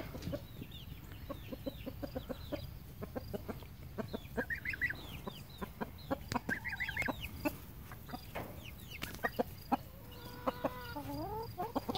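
A three-week-old young chicken clucks and chirps repeatedly in short, close, fairly quiet calls with irregular rhythm, alone without talk.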